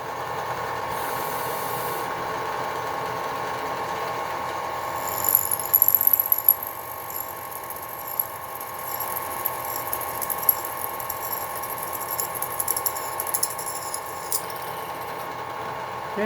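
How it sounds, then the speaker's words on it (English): Drilling two holes in a metal towel rack bracket, a steady high motor whine with intermittent cutting chatter and squeal in the middle and later part, no talk. "just like that, 2 holes drilled"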